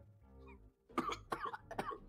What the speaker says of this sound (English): he breaks out into a cough